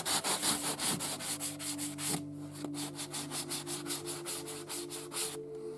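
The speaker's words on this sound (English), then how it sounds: "we're going to go ahead and smooth it back down with a sanding block." A sanding block rubs rhythmically back and forth over a resin model kit part, each stroke a close, raspy scrape in a steady sequence under a faint background tone.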